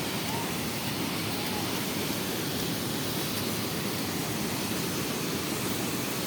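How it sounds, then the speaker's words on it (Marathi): Constant roaring rush of the Veravli waterfall in Lanja taluka, a broad unbroken wash of water noise from start to finish with no distinct events. "बघा हो हा गायचा आपला धबधबा"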